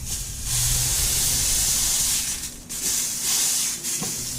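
A burger patty for a patty melt is smashed onto a hot griddle and sizzles loudly, a dense steady hiss broken by brief pauses.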